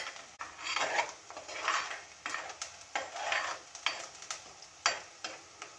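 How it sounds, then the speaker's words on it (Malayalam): Onions are stirred in a frying pan for an egg curry, with a steady soft sizzle under rhythmic scraping strokes of a spoon against the pan, close and fairly quiet. "ഉള്ളി ഒന്ന് മൂക്കണം, വഴലണം."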